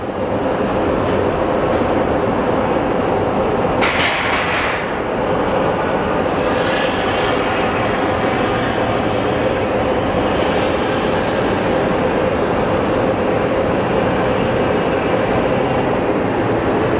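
At Phoenix Sky Harbor airport, an airliner's engines give a loud, continuous jet roar that stays steady throughout, with a brief higher whoosh partway through.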